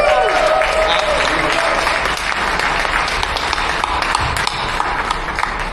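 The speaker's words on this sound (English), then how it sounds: "Those people deserve the round of applause" Audience applause fills a large event hall at a hackathon's closing day, steady and loud throughout, crowd clapping honoring event staff with a few voices mixed in.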